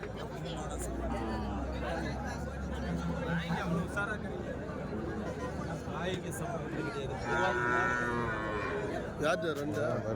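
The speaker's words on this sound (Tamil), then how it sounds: "இது காளை கண்ணக்குட்டி தாங்க ரெண்டும்" Cattle and calves moo repeatedly at a busy livestock market in Madrapalli, with several calls rising over steady crowd chatter and people talking nearby.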